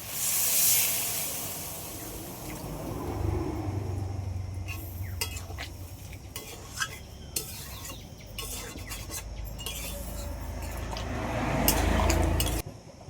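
Water poured into a hot pan of chicken curry cooked with ripe mango, giving a broad steamy hiss and sizzle that swells loud at the start and again near the end, with scattered clinks of a utensil against the pan in between.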